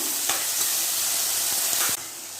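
Tomatoes sautéing in a pan for potato gravy give a steady close sizzle and hiss, broken by a few soft stirring clicks, before the sound drops sharply near the end.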